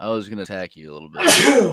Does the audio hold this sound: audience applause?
no